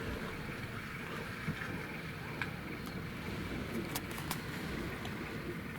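Very strong wind of about 40 miles an hour blows on the Isle of Mull, a dense, steady roar with buffeting gusts and a few faint knocks, no speech.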